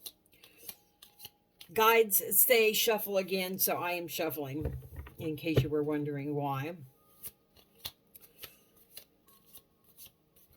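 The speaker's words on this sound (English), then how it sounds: "Guides say shuffle again, so I am shuffling." Tarot cards are shuffled by hand in soft, quick rustling bursts before and after a stretch of a woman's close speech.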